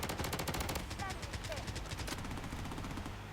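M4A1 rifle fire in the shooter game Blood Strike, rapid bursts of gunfire that rattle on continuously through the clip, moderately loud, with a person talking over it.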